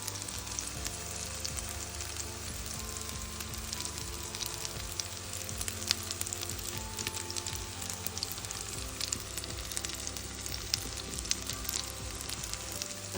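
A zucchini pancake sizzles and crackles steadily in hot oil in a pan, a constant close frying hiss with small pops throughout and no voices.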